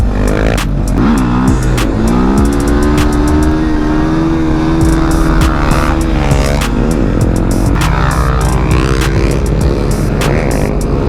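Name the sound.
Honda Grom motorcycle engine held on the rev limiter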